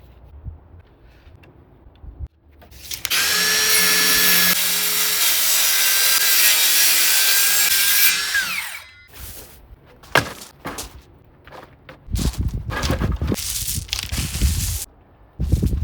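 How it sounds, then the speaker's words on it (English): A power saw cuts through pressure-treated ground-contact lumber into 16-inch pieces: a loud, sustained whining cut of about five seconds, then scattered knocks and clatter of wood being handled, close by. "I needed to cut a bunch of 16-inch pieces."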